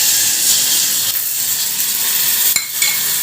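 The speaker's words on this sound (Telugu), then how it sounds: "సో ఇప్పుడు పోపుని వెళ్ళి మనం మజ్జిగ చారులో వేసుకోవాలి." Hot tempering poured into buttermilk rasam, giving a loud continuous sizzle and hiss with a brief clatter of a utensil near the end, no talking.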